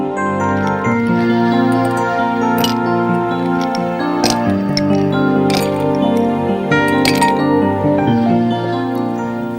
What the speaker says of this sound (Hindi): उसमें डालें आप कुछ आइस क्यूब्स